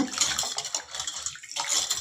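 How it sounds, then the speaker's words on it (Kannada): Water sloshing and swishing as rice is rubbed and rinsed by hand in a bowl, in short rhythmic bursts. "ಚೆನ್ನಾಗಿ ಕಿವುಚಿ ಕಿವುಚಿ ತೊಳೆಯೋಣ"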